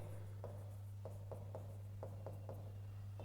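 Pen strokes on paper during a Hindi-language English grammar lesson, a series of short scratchy marks in an irregular rhythm, close and faint over a steady low electrical hum.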